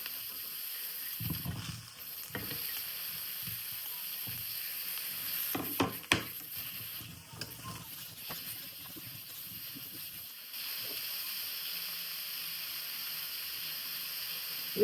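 Tempeh and button mushrooms fry in a pan with a soft, steady sizzle and hiss, and a few faint stirring clacks come near the middle. No one talks.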